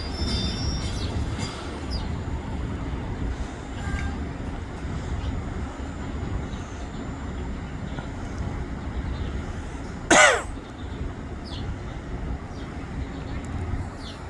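An electric multiple unit train rumbles along steadily with wheel noise and a sudden sharp squeal partway through, heard from nearby.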